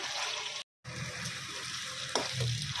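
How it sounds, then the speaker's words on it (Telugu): Chicken pieces fry in an oily pan with a steady, fairly loud sizzle and some stirring scrapes, briefly cutting out once, with no talking. "చూడండి, బాగా వేగిపోయింది."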